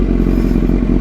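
A heavy Kawasaki Z900 motorcycle being pushed backward, a loud, close, continuous low rumble with faint clattering and scraping as it rolls.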